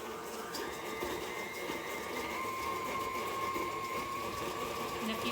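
An electric stand mixer whirs continuously at medium speed creaming a gingerbread mixture, a steady mid-level motor drone with a faint whine holding throughout.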